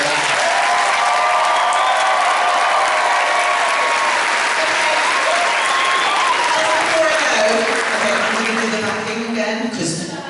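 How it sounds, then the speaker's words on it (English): An audience at a fan convention panel gives loud, dense, continuous applause with scattered cheers that thin out toward the end. "let's give a big round of applause"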